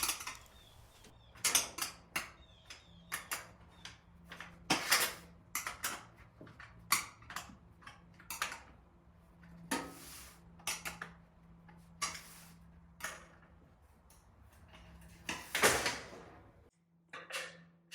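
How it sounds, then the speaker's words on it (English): Metal bolts being tightened on the legs of an outdoor gas fireplace during assembly, two bolts per leg, giving irregular close clicks, creaks and ratcheting scrapes spread over about eighteen seconds against a quiet low hum. "Now I'm tightening all of the legs. 2 bolts per leg."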